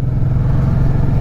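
A motorcycle engine rumbles at close range as its rider opens the throttle. The sound is a short, steady, low drone with no clear rise in pitch.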